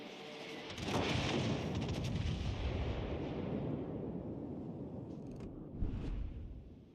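Warship gunfire in World of Warships Legends, Brisbane firing at an Ohio: a big booming salvo swells into a sustained rumbling roar, then a second sharper report lands near the end.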